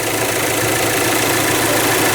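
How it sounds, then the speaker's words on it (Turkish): A Volkswagen Amarok engine idles just after an oil change, a loud, continuous and even rumble close up with no speech. "bariz bir şekilde duyuluyor ki motorun sesi yağ değişiminden sonra gerçekten değişiyor"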